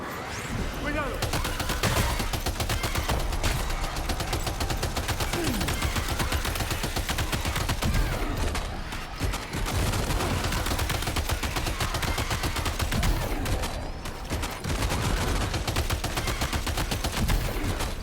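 Rapid gunfire from shooting enemies in the Death Stranding 2 video game, dense bursts of fusillade and machine-gun fire running continuously and loudly throughout, mixed with game effects and occasional voice.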